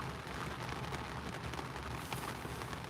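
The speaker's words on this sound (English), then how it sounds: "It's raining over here." Rain falling outdoors, a soft, even wash of dense patter that stays steady and faint from start to finish, with no voices.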